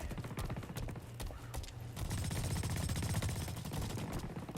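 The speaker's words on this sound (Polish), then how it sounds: "Słyszę cały czas gdzieś te wystrzały, ale ich nie widzę." Rapid bursts of video-game gunfire crackle continuously over a dense, busy background, like a game's combat soundtrack, with no voices.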